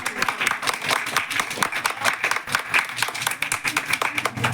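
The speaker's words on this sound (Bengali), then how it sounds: "ওর জন্য জোরে হাত তালি" An audience at a Saraswati Puja prize-giving claps: dense, steady, loud applause runs throughout, with a faint murmur of voices beneath it.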